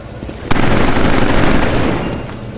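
Gunfire and explosions in Killzone 3 form a loud, dense roar, with a sharp blast at the start and a continuous rumble of battle carrying through the rest.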